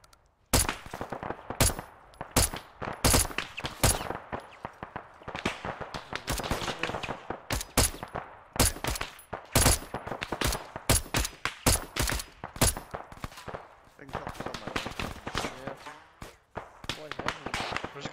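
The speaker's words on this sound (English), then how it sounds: "This guy is shooting at us." Arma 3 combat: a dense, sustained exchange of rifle and machine-gun fire, sharp cracks in rapid irregular bursts, some close and loud, others more distant, running steadily throughout with someone talking over it.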